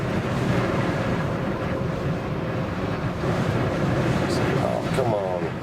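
Strong wind blowing across open ground at Cadillac Ranch, a steady loud broadband roar buffeting the microphone for the whole stretch, with no speech over it.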